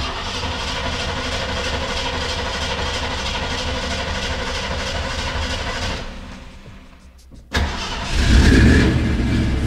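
A Ford Bronco's engine cranks and catches, a steady mechanical churn that drops away, then a sharp bang as the motor fires and settles into a louder idle close by.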